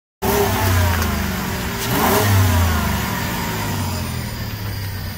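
A car engine revs hard from a sudden start, holding a loud steady roar with a rising surge in the middle before settling back, close and alone.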